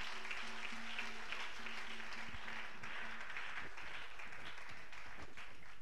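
Sustained applause from a church congregation acclaiming the Lord during a French-language service, steady clapping throughout with a low hum underneath and no talking.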